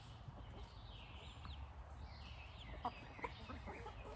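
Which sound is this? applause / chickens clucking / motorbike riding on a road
chickens clucking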